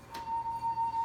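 A wet finger rubbed around the rim of a wine glass makes it sing with a steady, pure tone that pulses gently with each stroke, quiet and close with no talk.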